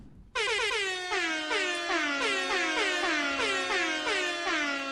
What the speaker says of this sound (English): I do appreciate that Doc Jekyll made the classic Sharn air horns, so even if I'm not in Shard, I can still hit it.